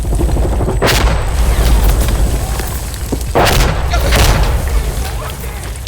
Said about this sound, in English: Mortar's coming in right on top of us, so just stay inside.